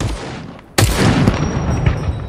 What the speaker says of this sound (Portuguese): O cara atirando pra cá, viu? É os russos.